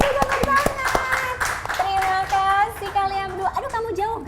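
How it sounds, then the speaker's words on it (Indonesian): A few quick hand claps ring out for two children after an Indonesian-pride performance, brief and close, mixed with chatty, excited voices that carry on over the clapping. "Kita kasih tepuk tangan."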